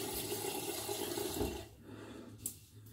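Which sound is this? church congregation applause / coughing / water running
water running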